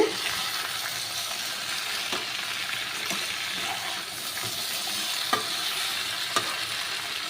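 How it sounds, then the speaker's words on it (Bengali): Vegetables for Bengali shukto sautéing in a pan, a steady soft sizzle with occasional stirring scrapes and light clinks throughout. "এবার আমি একটুখানি কষাবো।"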